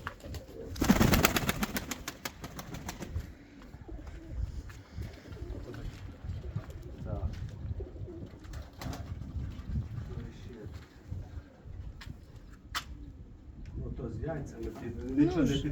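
Soft pigeon coos close by, repeating gently under ongoing conversation, with a brief louder rustle near the start.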